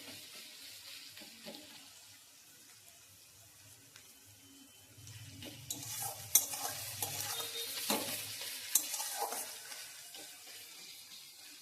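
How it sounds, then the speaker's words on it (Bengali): Sliced onion with a pinch of salt fries in a pan while being stirred, a soft sizzle with scraping strokes that grow louder and busier halfway through, close by and without talk. "এবার পেঁয়াজটাকে একটু নাড়াচাড়া করে নেব।"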